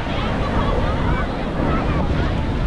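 Sea waves surging onto Vung Tau beach at high tide, a steady broadband wash of surf mixed with heavy wind buffeting the microphone, continuous and loud with no clear breaks between breakers.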